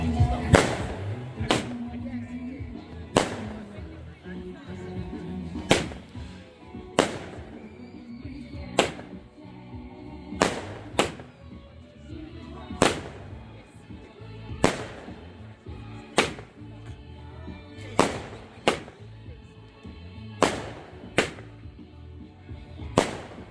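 Bonfire night fireworks bursting in a series of sharp, loud bangs at irregular intervals, roughly a dozen cracks over a continuous outdoor background, with people talking in between.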